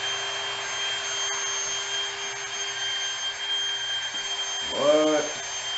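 A Ryobi cordless drywall screwgun runs at full trigger lock with a steady, loud motor whine held throughout, then a brief wavering shift in pitch near the end.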